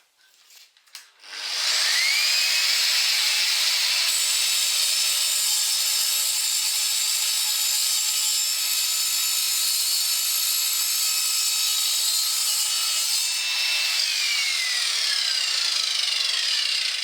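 Evolution Rage 3 S radial miter saw slicing through a small square tube: a loud, steady high-pitched whine and grind that holds for about fifteen seconds, then the motor tone winds down at the end.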